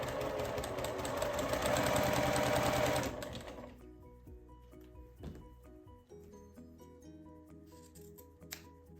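A sewing machine stitches quilt block pieces in a fast, steady run for about three seconds, then stops, followed by quieter handling sounds and small clicks nearby.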